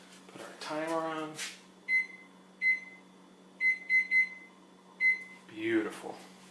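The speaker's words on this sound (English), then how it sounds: "Put our timer on." A kitchen timer is set during holiday cookie baking, giving a string of short, bright electronic beeps spaced irregularly, some doubled, close by. Brief talk comes before and after the beeps.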